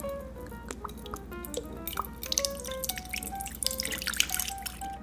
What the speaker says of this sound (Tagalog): Maglagay po tayo ng suka.